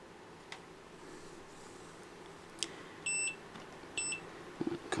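A multimeter on continuity mode, probing the fuse of a blown wall-wart power supply, gives two short, clear electronic beeps about a second apart over faint background noise and small handling clicks.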